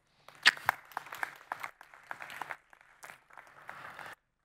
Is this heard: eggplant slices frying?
no